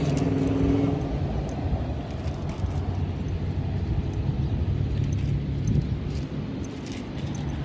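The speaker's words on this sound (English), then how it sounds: "You'll have to excuse the road noise." A constant low roar of passing road traffic fills the scene, steady and fairly close, with occasional faint jingling and no voices.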